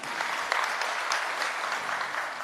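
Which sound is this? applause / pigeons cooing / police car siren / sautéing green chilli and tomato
applause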